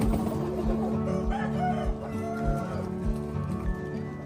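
Chickens on a hillside farm raised in large flocks cluck and a rooster crows, clear and fairly near, with scattered thumps and other farm noise.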